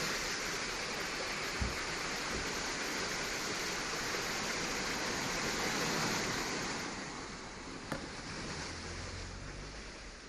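Floodwater rushes down hillsides toward houses after heavy rain, a dense, continuous roar of flowing water that stays loud and fairly steady, with a couple of faint knocks and no voices.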